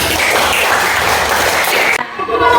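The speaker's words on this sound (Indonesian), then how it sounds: "sekarang tepuk tangan dong buat kita" Classroom group applause from children during a lesson, broadband clapping filling about two seconds before cutting off abruptly into a brief quieter tail.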